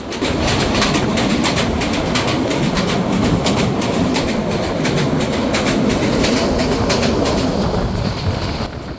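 A train rumbles loudly and steadily with a rhythmic clickety-clack of wheels, a continuous close roar while crossing the Ghorashal railway bridge over the Shitalakshya River in Bangladesh, no voices.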